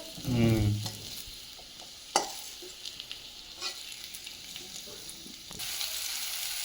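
Green banana and potato fry in hot oil with a soft, steady sizzle, broken by a few sharp knocks and scrapes of a utensil against the pan; close but quiet, with no voices.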